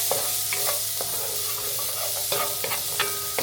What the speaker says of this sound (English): let's fry that a little bit